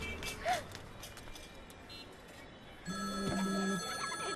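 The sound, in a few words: phone ringing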